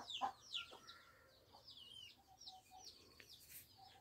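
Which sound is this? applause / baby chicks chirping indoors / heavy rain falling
baby chicks chirping indoors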